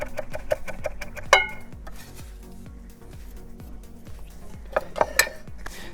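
A knife finely chopping basil on a board for a meat ratatouille, a steady rapid series of soft thuds with a few sharper clinks of metal, close and moderately loud, no talk.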